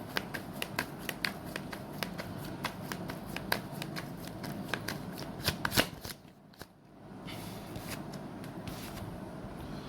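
A deck of tarot cards being riffled and shuffled close up, a rapid run of crisp flicking snaps, then a brief quiet pause before the soft shuffling resumes.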